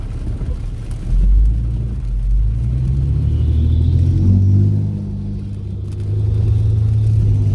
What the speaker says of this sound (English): That's a fire truck.